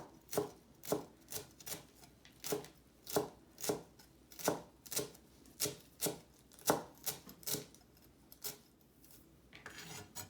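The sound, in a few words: chopping cilantro with a knife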